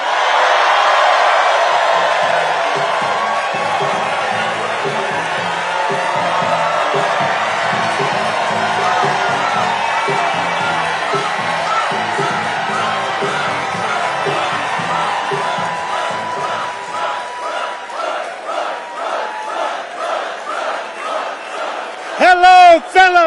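Large crowd cheering and whooping at a presidential campaign rally in Raleigh, North Carolina, loud and sustained, then thinning into scattered shouts before a brief loud burst at the end.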